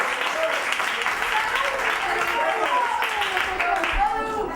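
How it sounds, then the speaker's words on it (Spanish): Audience applause for a guest at a workshop session, a steady wash of clapping from a room full of people sustained at even strength throughout, with faint voices mixed underneath. "Un aplauso para José Luis"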